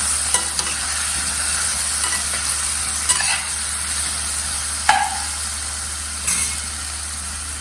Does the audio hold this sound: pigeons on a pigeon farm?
no